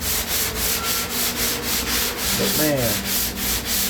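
Wood being sanded by hand with sandpaper, a steady rhythmic back-and-forth rasping of about nine strokes, close and loud, with a brief spoken remark partway through.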